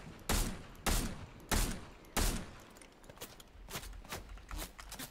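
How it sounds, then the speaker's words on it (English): Gunfire from enemy players in an online shooter game: four loud, evenly spaced shots in the first two seconds, followed by a faster, quieter spatter of more distant shots. "Now you're being shot at from the people that killed me down below to your left."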